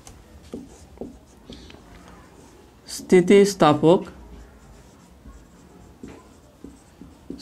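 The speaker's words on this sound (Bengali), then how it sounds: "আমি লিখে দিচ্ছি" A teacher writes notes during a Bengali-language physics lesson on elasticity, giving soft intermittent scratching strokes before and after a short burst of speech.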